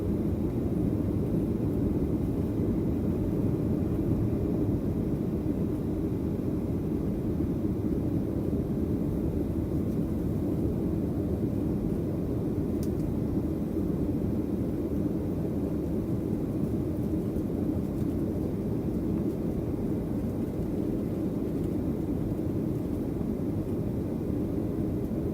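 On a flight to Hong Kong, the airliner cabin fills with a steady, even engine drone and broadband air rush that holds unchanged for the whole stretch, with no talk.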